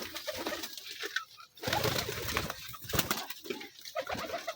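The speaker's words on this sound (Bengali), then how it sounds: "তো এই যে আমার কবুতরগুলো সব খাচ্ছে।" Pet pigeons coo repeatedly while feeding, soft throaty low calls overlapping in a loose rhythm, close by, with pecking, shuffling and a brief wing flutter, and no talk.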